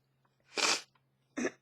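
Two sharp sneezes from one person, close and fairly loud, about a second apart, with a faint sniff between them over a quiet background hum.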